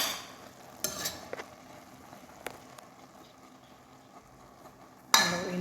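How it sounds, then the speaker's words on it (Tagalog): Mulukhiyah (jute leaves) and chicken being stirred in a pot: a few faint, scattered scrapes and clinks over a quiet background, then a sharper clatter right at the end. "Haluin natin."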